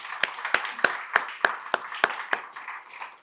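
Scattered, fairly faint clapping rises from an audience honoring former military members, a handful of distinct hand claps spaced roughly evenly and tapering off.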